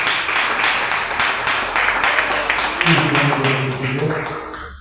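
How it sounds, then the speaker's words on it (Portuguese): A church congregation claps hands in worship, a steady, moderately loud wash of clapping, with a voice speaking or singing over it in the latter half. "Adore o Senhor com palmas."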